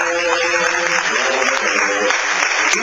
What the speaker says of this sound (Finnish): Anna sulle aplodit.